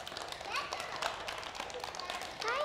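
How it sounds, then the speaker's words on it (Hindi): Children clap in a quick, dense patter during a Hindi puppet show for kids, a steady burst of hand claps lasting throughout, fairly faint and roomy. "क्या बात बच्चों, तालियां बजा के।"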